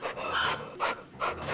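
A woman in labor pants through a breathing exercise, with three rapid, breathy bursts of quick huffs separated by short pauses, close and fairly clear.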